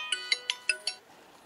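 A phone ringtone plays five quick, bright chiming pulses in an even rhythm, close and clear, then falls silent; heard while a seller is calling during a MacGregor 26 yacht purchase.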